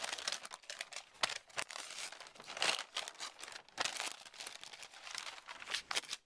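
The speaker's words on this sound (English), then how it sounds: "This is freezer paper that I'm unwrapping the soap out of." Close, loud crinkling and rustling of stiff freezer paper being unwrapped from handmade shampoo soap bars, in irregular bursts and crackles with no voices.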